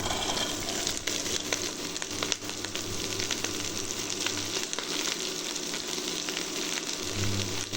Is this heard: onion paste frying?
yes